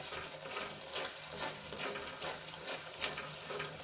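Soft sizzling in a pan with repeated scraping strokes as pav bhaji masala with coriander-cumin powder is stirred, steady and close, no voices.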